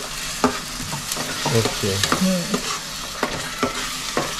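Masala frying in a kadhai, a steady close sizzle broken by sharp clacks and scrapes of stirring at an uneven rhythm, with one brief spoken word.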